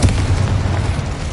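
A deep, booming magical blast from the Confringo explosion spell in Hogwarts Legacy, a heavy low-end burst with a rumbling tail that stays loud across the moment.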